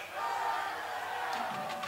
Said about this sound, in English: The PA announcer having a great time today getting to lead the crowd in the Trojan first down call